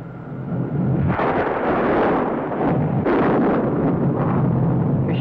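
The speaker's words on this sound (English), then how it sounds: "Looks like the thunder and lightning's on their ball team." Thunder in a 1954 science-fiction film: heavy, continuous rumbling roars build in several surging waves, loud and broad with no voices.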